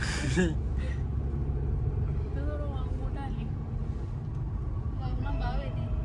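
A car engine rumbles low and steady throughout on a winding mountain road while people talk over it inside the car.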